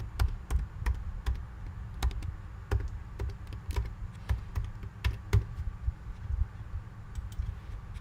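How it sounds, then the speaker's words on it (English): Computer keyboard being typed on at close range: irregular bursts of sharp key clicks with short pauses between them, no talking. "by typing in your email address."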